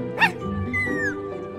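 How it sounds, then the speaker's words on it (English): Cartoonish puppy barks from the video game Minecraft Story Mode, a short yip up front then softer whimpering tones, heard close over a faint game backdrop with a little talk. "Got some fine puppies here."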